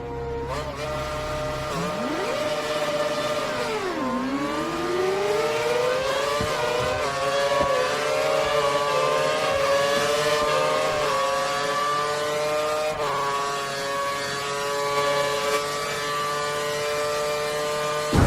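An F1 car in the F1 2013 racing game revs hard through the gears with KERS and DRS while overtaking another car, a continuous loud high-pitched engine whine that dips, then climbs steadily.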